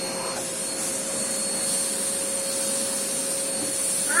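A homemade vacuum cleaner runs steadily up close, its broad whirring hiss holding a constant tone with no voices over it.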